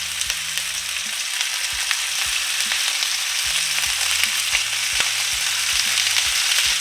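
Lamb loin chops sizzle in a ripping-hot cast iron skillet, a steady, dense frying hiss with scattered crackles and pops running the whole time, close and fairly loud, no talk.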